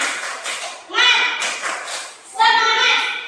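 Schoolchildren in an Indonesian classroom perform the tepuk semangat clapping chant, two loud bursts of rhythmic group claps and chanting voices separated by quieter talk, close and lively.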